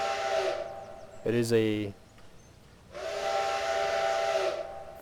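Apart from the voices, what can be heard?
steam locomotive whistle in Trainz 2022 video game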